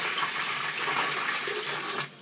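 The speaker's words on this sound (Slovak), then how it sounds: "do ktorej nalejem čistú vodu" Clean water, distilled or reverse-osmosis, is poured into a container for making aquarium moss stones, a close, steady splashing gush that runs for about two seconds and then tapers off.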